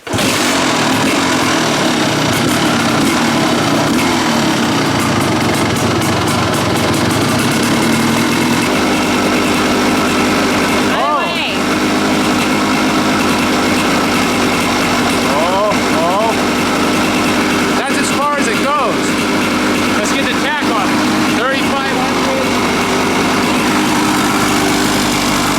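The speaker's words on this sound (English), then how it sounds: "start the engine and set it to a high idle" A Kawasaki dirt bike engine holds a steady, loud high idle, a buzzy continuous drone with slight wavering. People talk faintly underneath.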